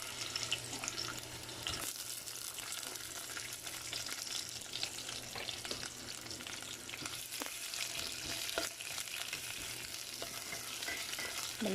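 Sliced onion sizzles in hot oil in a pan, a faint, steady crackle with occasional stirring scrapes, heard with no voices over it.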